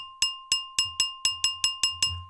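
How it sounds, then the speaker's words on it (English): A glass lid sample played through the Serum synthesizer gives a bright, bell-like glass chime, struck eight times at an even, steady pace. Each hit rings with a sustained tone, and a low hum rises underneath toward the end. "It's a glass sort of noise, a glass bell sort of sound."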